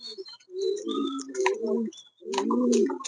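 Fancy pigeons coo in a few close, soft, rolling phrases with brief pauses, with no talk over them.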